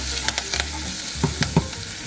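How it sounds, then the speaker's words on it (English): Black beans with coriander, jalapeno and spices sizzling in a hot pan as they get stirred, a constant frying hiss broken by a few sharp spoon scrapes and clacks near the end. "Give that a good mix."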